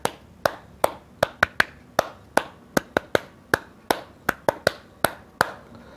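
Single light hand claps land one at a time at a slightly uneven pace, about twenty crisp, close claps with short quiet gaps between them in a still room.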